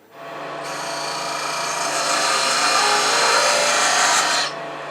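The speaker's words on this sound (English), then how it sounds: "Use an 1/8 inch parting tool." An eighth-inch parting tool cutting into wood spinning on a lathe, a loud close rasping scrape that holds steady for about four seconds over the lathe's hum, then cuts off.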